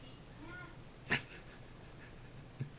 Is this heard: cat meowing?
yes